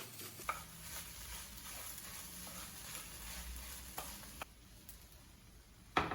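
Réunion-style Cantonese fried rice sizzles steadily in a pan over a strong flame while being stirred, with the frying hiss continuous, a few light scrapes and taps, and the sizzle dropping briefly near the end.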